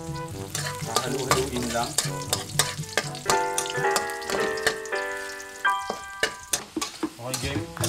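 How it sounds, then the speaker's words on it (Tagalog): Onions sizzle and crackle steadily in hot cooking oil, a close, busy frying hiss with stirring clatter, while a voice speaks briefly over it. "ilalagay natin tong sibuyas"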